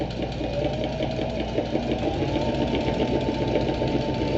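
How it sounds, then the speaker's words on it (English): A sewing machine stitching a seam on a leather pouch runs steadily and close, a continuous mechanical whir with a fast even rhythm and no voices. "so I'm going to sew this line down once"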